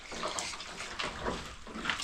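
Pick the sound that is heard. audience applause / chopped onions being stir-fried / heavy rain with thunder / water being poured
water being poured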